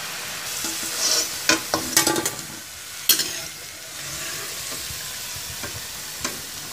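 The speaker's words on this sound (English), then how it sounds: "You can take any cooking oil to fry this." Mini samosas fry in cooking oil with a steady low sizzle, broken by several sharp clicks and taps from a utensil against the pan, close up and without any talk.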